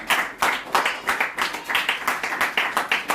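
A church congregation claims and applauds for Jesus, loud, rhythmic hand clapping in a steady beat of roughly four claps per second, with a faint voice underneath.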